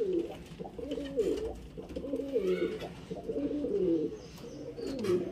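Paper pigeons (kagji pigeons) kept for flying, cooing in repeated low, throaty rolls close by over several seconds, with soft rustling in the background.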